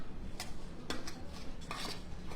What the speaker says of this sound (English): I'm going to mix everything with a spoon